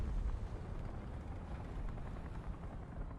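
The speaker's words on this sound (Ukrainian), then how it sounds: "І гелікоптер літає, і союзники гудять." A helicopter flies in the War Thunder tank battle game, a continuous low rotor and engine rumble, fairly steady and distant, with no speech over it.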